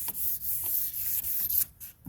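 A 1996 Sea-Doo GTI hull is wet sanded by hand in quick, soft back-and-forth rubbing strokes, close and steady, with brief pauses near the end.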